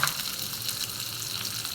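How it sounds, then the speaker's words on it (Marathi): Onion sautés in a hot pan, producing a continuous close sizzle and crackle throughout a brief moment, with no talking. "कांदा चांगला परतून घेऊया."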